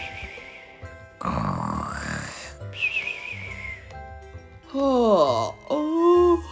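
A storyteller's voice imitates a man snoring away, with drawn-out groaning, rasping snores in a slow rhythm, close and fairly loud.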